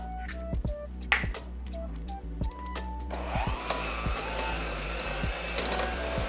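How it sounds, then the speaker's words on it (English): An electric hand mixer beats keto chocolate muffin batter on a low setting, starting after a few clinks and then running as a continuous close whir with bowl scraping. "Hand mix low and slow."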